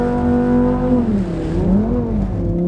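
A tuned Lamborghini Huracán V10 LP580-2 revs hard while drifting, its loud, sustained engine note rising and falling in pitch as the throttle swings, close to the listener with no talking over it.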